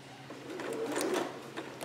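A sewing machine back stitches on skirt pieces in a short, close burst of rapid stitching that swells and then eases off.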